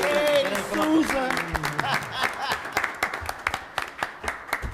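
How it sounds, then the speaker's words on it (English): Audience at a city council meeting applauding an animal control worker, with clapping that starts under a speaking voice and continues as scattered, thinning claps. "you guys can all give her a round of applause because it is Animal Control Week"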